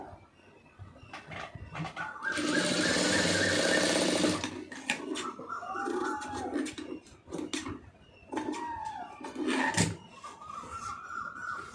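A sewing machine runs in a steady burst of stitching along a fabric seam, followed by shorter stop-start runs and handling clicks, close and clear with no talk.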